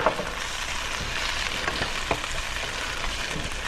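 Tater tots for breakfast burritos fry in a pan while being stirred, giving a continuous close sizzle broken by a few light spatula knocks, with no voices.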